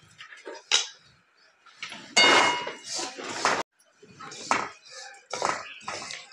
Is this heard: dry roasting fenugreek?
yes